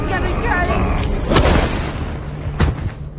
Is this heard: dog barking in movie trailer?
no